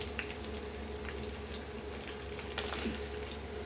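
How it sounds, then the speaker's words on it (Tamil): Fish frying in a pan gives off a steady, soft sizzle with occasional crackles and a faint clink near the end, close and fairly quiet. "மீன் வறுத்துட்டு இருக்கேன்"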